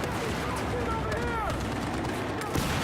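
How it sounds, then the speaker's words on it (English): Several impact grenades thrown at once burst in a video game, giving a dense, rapid rattle of blasts and gunfire-like cracks at moderate loudness under ongoing talk. "That was 3 impact grenades thrown at once"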